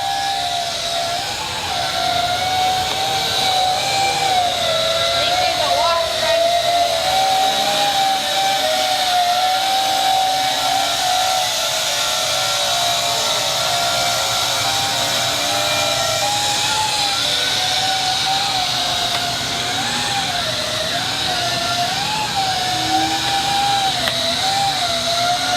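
A drone dressed as a ghost for Halloween flies overhead with a loud, steady whining buzz of spinning propellers whose pitch wavers as it manoeuvres, continuing without pause and without speech.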